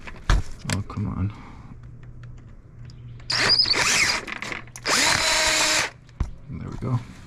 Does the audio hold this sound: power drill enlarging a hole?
yes